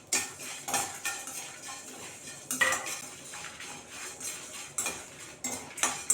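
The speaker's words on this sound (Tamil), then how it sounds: "இப்போ இதில் இந்த கருவேப்பிலையும் நல்லா சேர்த்து ட்ரை ரோஸ்ட் பண்ணிக்கலாம்" Curry leaves and spices dry roasting in a kadai for tamarind rice, with a spoon scraping and clinking against the pan in irregular close bursts and no sizzle of oil.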